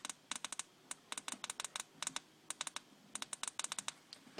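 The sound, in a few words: phone keyboard clicking while texting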